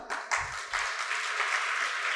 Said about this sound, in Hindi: ताली तो बजाओ तुम लोग।